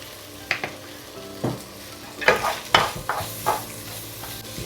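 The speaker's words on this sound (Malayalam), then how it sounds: "ഇതും കൂടെ ചേർത്തിട്ട് ഇങ്ങനെ അങ്ങ് വഴറ്റി കൊടുത്തിട്ട്" Onion and tomato with turmeric are sautéed for prawn biryani, a low sizzle broken by several distinct scraping stir strokes of a spatula against the pan, loud and close.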